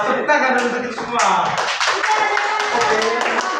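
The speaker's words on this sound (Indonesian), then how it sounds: "Tepuk tangan untuk kita semua." A classroom of students claps their hands together in a micro-teaching lesson, with rhythmic taps mixed among voices and chatter throughout.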